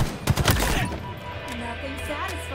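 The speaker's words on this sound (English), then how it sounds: "Nothing satisfies like a three-round burst" Three-round burst rifle fire in Halo Infinite, a few quick clustered shots at the start, loud and close, then a fading electronic tail with game noise underneath.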